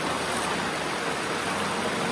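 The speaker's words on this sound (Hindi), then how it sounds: "ये देखो पानी का तेज बहाव बहुत है।" Fast-flowing stream swollen by recent rain rushes over slippery rocks, a steady close broadband roar of water with no pauses.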